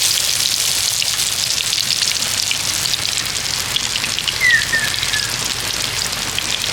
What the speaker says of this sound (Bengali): এবার তেলের মধ্যে ছেড়ে দেব।